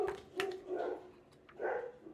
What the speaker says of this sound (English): Sorry guys, it's my dogs, if you can't tell